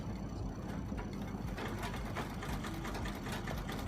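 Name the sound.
sewing machine stitching edges of velvet handbag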